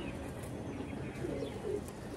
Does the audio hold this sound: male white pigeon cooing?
yes